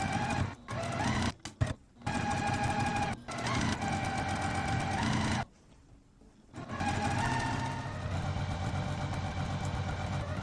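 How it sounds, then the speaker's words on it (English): A sewing machine pieces strips for a gingham quilt, running in steady loud bursts with short stops between seams and a longer pause midway before resuming. "let's go take these over and get sewing"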